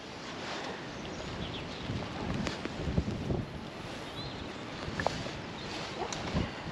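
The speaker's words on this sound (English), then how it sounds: "The rain's back, the wind's back." Steady wind and rain outdoors at a fishing lake during a match, a continuous broad rushing wash with a few faint knocks and taps scattered through it, no talk.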